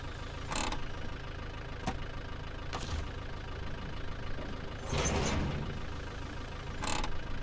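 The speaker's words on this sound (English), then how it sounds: "Engine is going off because I'm calling it an episode here" A truck engine idles in the SnowRunner video game, a steady low rumbling drone throughout, broken by a few sharp clunks and bursts of noise.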